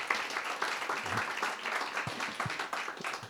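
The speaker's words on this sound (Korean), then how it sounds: "우리 격려의 힘찬 박수 응원해 주시면 고맙습니다" Congregation applause of encouragement at a Christmas thanksgiving church service, a soft, fairly steady patter of clapping with a few more distinct claps, somewhat distant.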